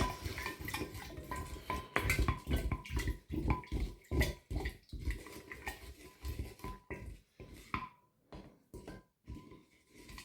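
Utensil scraping and clinking in a bowl as yeast is stirred into a mixture, a steady run of close, uneven knocks and scrapes over about ten seconds with no talk.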